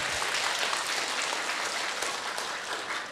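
A seated audience at a Vietnamese Buddhist dharma talk breaks into sustained applause, a full, steady clatter of many hands lasting about three seconds and tapering off slightly at the end.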